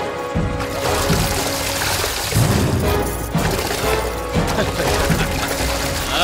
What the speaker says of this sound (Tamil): போறவங்க மேல எல்லாம் இப்படி தண்ணி ஊத்துறியே